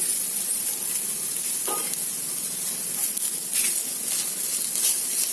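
Spices such as salt, turmeric, garam masala and chili powder being stirred into a frying pan for a radish fry, giving a steady close sizzle with soft scraping strokes, no talking.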